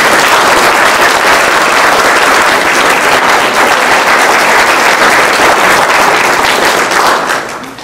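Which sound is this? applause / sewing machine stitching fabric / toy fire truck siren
applause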